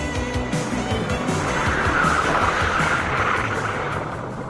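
A big car floored on snow during an evasive maneuver, its engine revving hard and steady with wheels spinning, a loud continuous roar heard from nearby.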